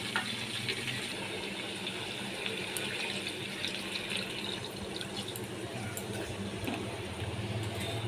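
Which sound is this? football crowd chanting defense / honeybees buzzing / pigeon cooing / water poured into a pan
water poured into a pan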